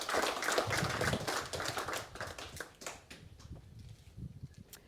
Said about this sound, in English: a big round of applause for Jamie